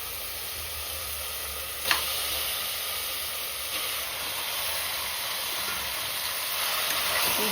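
Half a kilo of chicken sautés in a pan for coconut chicken kuruma, giving a steady, close hiss and sizzle that stays even throughout, with one brief clink near the start.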